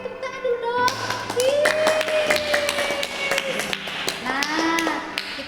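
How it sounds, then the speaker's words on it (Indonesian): An audience claps for the winners of Indonesia's 2020 National Science Competition: a scattered run of sharp hand claps mixed with cheering voices, lasting throughout. "Oke, tepuk tangan dulu dong."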